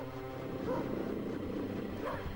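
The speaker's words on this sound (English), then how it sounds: "And I end up getting caught by the dog" A dog in the PS1 game Chicken Run barks and yips in a couple of short, muffled bursts over a steady, busy game soundtrack.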